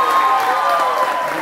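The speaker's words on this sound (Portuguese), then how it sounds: "Vamos aplaudir, gente," An audience at a Brazilian stand-up comedy show applauds in a brief burst of crowd clapping, with voices mixed into the noise.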